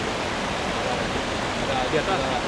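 Forest waterfall rushing steadily, a dense broadband roar of falling water that stays constant throughout, with no other sounds standing out.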